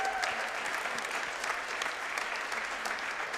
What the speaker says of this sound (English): so we need to applaud him